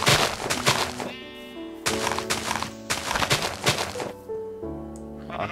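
Sheep bleat in Minecraft over blocky game sound effects and music-like tones, several short wavering calls spread through the moment at moderate loudness.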